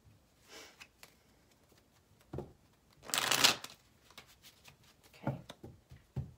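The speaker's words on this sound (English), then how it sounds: "One more shuffle." Tarot cards riffle in a brief burst of shuffling, with softer handling sounds and light taps before and after, close and quiet.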